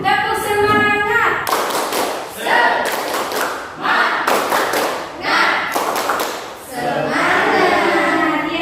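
Students in a classroom doing a rhythmic spirit clap, sharp bursts of group clapping and thumps in a set pattern alternating with children chanting together.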